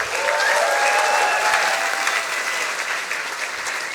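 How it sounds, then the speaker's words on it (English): Audience applause at a science slam stage event in Berlin, a steady dense wash of clapping from a crowd that holds for about four seconds and only slightly thins toward the end, with no voices over it. "Big applause for Tamanna."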